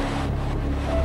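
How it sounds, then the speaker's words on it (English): Hurricane Andrew's wind roars in a strong, steady gust that buffets the microphone with heavy low rumble, loud and continuous, with no voices. "Hey, hold on to my pants if the wind gets me."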